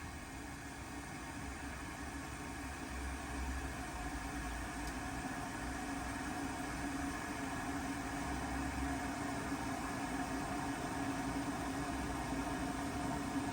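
Electric kettle heating a single cup of water toward a boil, a constant low rumbling hiss that holds steady throughout with no talking.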